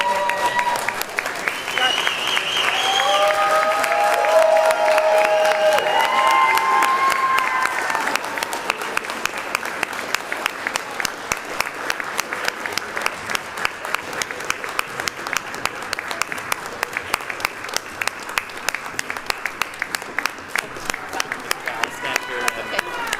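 An audience at a nurse practitioner hooding ceremony stands and applauds the graduates, sustained crowd clapping with cheers early on, then settling into a steadier rhythmic clap as it continues.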